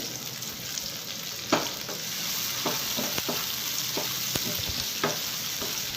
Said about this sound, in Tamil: போட்டு நல்லா ஃப்ரை பண்ணிக்கலாம்